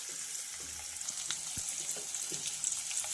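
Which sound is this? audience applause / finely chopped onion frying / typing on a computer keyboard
finely chopped onion frying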